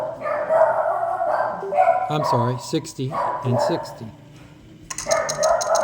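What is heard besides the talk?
dogs barking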